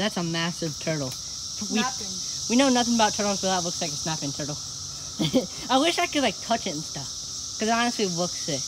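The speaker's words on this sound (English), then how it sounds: "You can hear the cicadas in the background." Cicadas buzz as a steady high drone in the background, constant under two people talking close by outdoors on a summer day.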